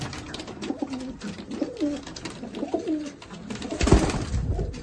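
A breeding pair of pigeons coo in low, repeated rolling calls nearby just after being let go, with a rustle and thump of movement toward the end and no speech.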